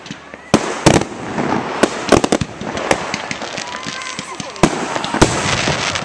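A Canada Day fireworks volley bursts in a rapid string of loud cracks and bangs over steady crowd noise outdoors, with people talking and reacting throughout.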